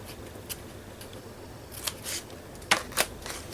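Scissors snipping washi tape, a few soft crisp cuts with two sharper snips near the end, close and quiet with no talking.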